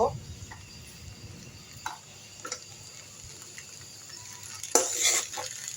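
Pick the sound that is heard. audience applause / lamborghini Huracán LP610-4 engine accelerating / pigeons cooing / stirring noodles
stirring noodles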